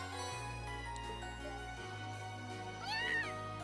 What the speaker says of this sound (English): Oh, that cat managed to get in here.